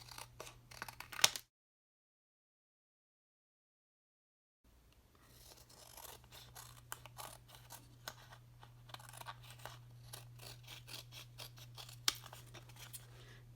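Scissors snip a piece of craft material shorter, a quick cluster of close, crisp cuts, then a gap of silence before a run of small snips and ticks over a faint steady hum.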